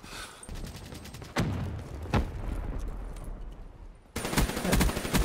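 Gunfire from the video game Black Ops 3 during a deathmatch: a sharp shot near 1.4 s and another near 2.2 s over a rumbling game ambience, then a loud sustained burst of rapid fire at the end.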